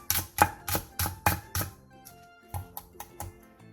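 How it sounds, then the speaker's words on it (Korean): A knife slices a Cheongyang red chili diagonally, then finely chops the green part of a green onion for a Korean side dish: crisp, evenly spaced strokes on a board, about six quick cuts followed by a lighter, faster run. "청양 홍고추 1개를 어슷썰고 대파 초록 부분 3분의 1개를 쫑쫑 썰어주세요."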